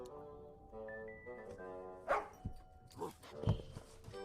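A dog barks in the point-and-click adventure game The Little Acre, a few short barks and yelps over a steady tonal music bed, moderately close.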